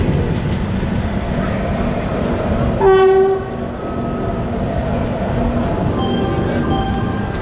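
The Howrah Jodhpur Express rolls along loudly with steady wheel rumble, a short horn blast cutting through midway and faint squeals over the continuous clatter.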